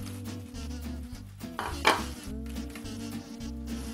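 Fried okra being stirred into masala in a pan for Tamil puli kuzhambu, with steady soft scraping and clinking of a utensil against the pan, one sharper clatter midway, over a low background hum.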